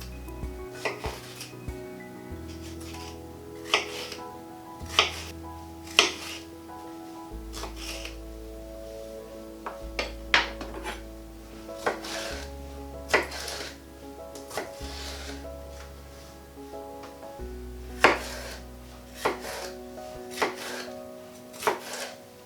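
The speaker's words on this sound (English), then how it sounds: "We're just going to be cutting this into just chunks rather than strips." A knife chops vegetables into chunks on a cutting board while vegan paella is prepared in a kitchen; irregular, fairly sharp knocks sound alone against a quiet background, with no talking.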